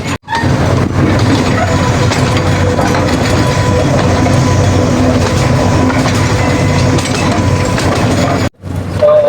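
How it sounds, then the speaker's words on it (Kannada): A toy train ride at Bal Bhavan clatters along with a loud, steady rumble and rhythmic clickety-clack that runs almost without a break, cutting off briefly near the end. "ಟ್ರೈನ್ ರೈಡ್ ಅಲ್ಲ, ಟ್ರೈನ್ ಜರ್ನಿ ಹೆಂಗಿತ್ತು?"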